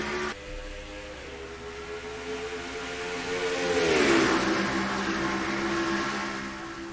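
Pack of race trucks in the NR2003 racing game surging off the green-flag start of the Wawa 250, a sustained engine drone rising in pitch as they accelerate, steady and fairly loud with no talk.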